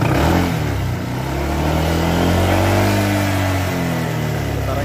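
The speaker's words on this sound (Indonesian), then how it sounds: "Yang pasti ini bawaannya suaranya udah kasar kayak gini ya. Coba saya gas ya." A 2022 Honda PCX 160cc scooter engine, rough sounding, is revved steadily: a loud, close, continuous buzzing drone that dips slightly and then climbs in pitch, with no talking.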